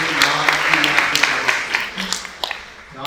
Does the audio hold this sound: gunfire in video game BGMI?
no